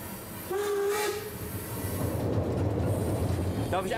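A narrow-gauge seaside train on Rügen rumbles along with clattering wheels and a brief whistle, steady and fairly close, with a faint squeal near the end.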